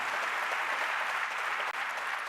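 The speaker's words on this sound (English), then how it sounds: "give yourselves a huge round of applause" A conference audience at a Talent Connect event claps in a dense, steady wash of applause that holds at an even level from start to finish, with only a brief dip near the end.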